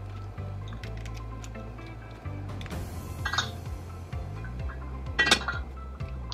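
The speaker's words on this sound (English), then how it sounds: "I go in, I take another peek, move things around as it's starting to simmer down in the pot." A seafood boil of crab, corn and potatoes being stirred in a pot: soft wet squishes and light clinks of shells and utensil against metal, with a low simmering hum underneath, close and fairly quiet.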